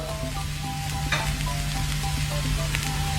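Spices stir-fry in a pan for a red pork rice sauce, sizzling steadily and close with a continuous crackling hiss and occasional light scrapes of the spatula.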